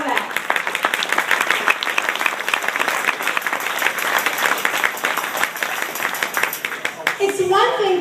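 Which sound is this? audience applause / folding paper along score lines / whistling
audience applause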